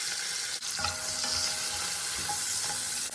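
Fried onions, carrots, garlic, ginger and spices stirred in a hot pan, a steady close sizzle with soft scraping strokes of the spoon throughout.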